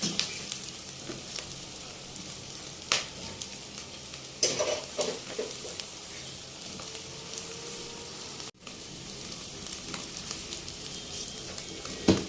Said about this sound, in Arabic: هنزل بثلاث فصوص ثوم متقطعين واكمل تقليب.